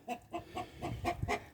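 A hen clucks in a quick run of about seven short, evenly spaced clucks, close and fairly soft, with no talk over it.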